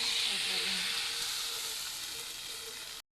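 Batter poured into a hot pan with coconut and salt for savory kozhukattai, a bright steady sizzle and hiss close by that slowly fades over a few seconds, then stops abruptly.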